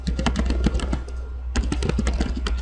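Rapid, close keyboard typing as a router configuration command is entered, bursts of crisp key clicks with a brief pause in the middle before the typing resumes.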